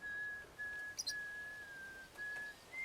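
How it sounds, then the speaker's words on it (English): A person whistles a sustained, wavering melody with brief pauses, fairly close and alone against quiet background hiss. "outside whistling their mother's favorite song"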